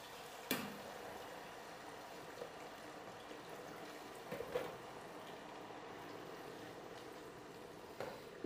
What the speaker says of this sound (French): les frites ils sont en train de faire frire